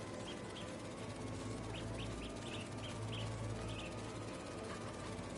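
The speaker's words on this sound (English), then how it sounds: "This bird is called the bee eater bird." A bee-eater bird in the video game Spider-Man 2 gives faint, short chirping calls in quick clusters over a steady ambient background.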